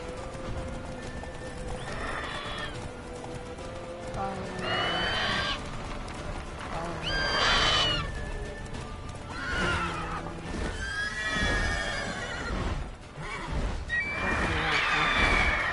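Galloping horse in the Witcher 3 video game, steady clip-clop of hooves running throughout with several loud, close neighs and whinnies breaking out over the hoofbeats.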